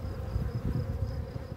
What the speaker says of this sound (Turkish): Bir kolonimizi daha açmış bulunuyorum. Bu bir Belfast arı.